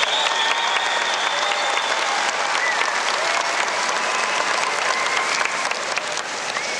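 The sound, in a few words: applause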